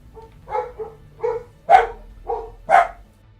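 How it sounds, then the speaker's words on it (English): Dogs bark outside in a ragged series of about six barks, moderately close and uneven in spacing, with no talking over them. "you heard the dogs"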